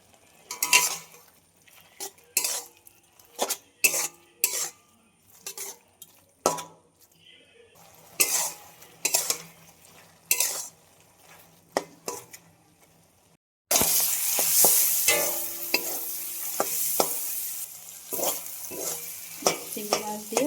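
Prawns being fried and stirred with water spinach in a pan, with repeated scraping and clinking strokes of a utensil over a quiet sizzle, then a louder, continuous hiss of frying toward the end.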